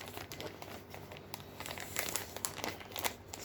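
A plastic zip bag package from a clothing order being opened, giving close, quiet crinkling and rustling with a few louder crackles near the end.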